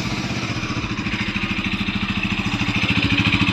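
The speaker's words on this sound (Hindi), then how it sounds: "तो अभी इग्निशन ऑन कर दिया, तो बाइक का जो है अभी ओल्ड जो एयर फिल्टर है वो लगा हुआ है, तो उसके साथ में अभी कैसा आवाज़ आ रहा है" A Bajaj Pulsar NS 200 motorcycle idles with an old air filter fitted, a close, steady low engine thrum with a regular pulsing beat that grows slightly louder toward the end.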